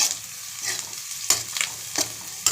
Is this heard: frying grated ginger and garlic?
yes